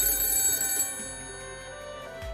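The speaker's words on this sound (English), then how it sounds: "my cell phone, sitting on the table, started ringing" A cell phone sitting on a table rings with a bright electronic tone made of sustained tonal layers, clear and fairly close, with no talk over it.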